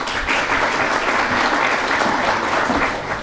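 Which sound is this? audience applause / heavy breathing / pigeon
audience applause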